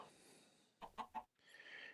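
A chicken in the game Minecraft gives three quick, soft clucks in a row, faint against quiet in-game background sound.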